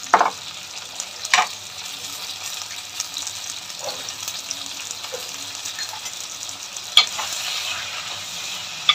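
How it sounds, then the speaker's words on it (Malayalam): Onion, green chilli and garlic sautéing in a pan, a soft steady sizzle with a few sharp stirring clinks and scrapes scattered through, no talking. "ഒരു ചെറിയ സവാള, പച്ചമുളക് 3-4 വെളുത്തുള്ളി കീറിയത് ഒന്ന് വഴറ്റിയെടുക്കാം"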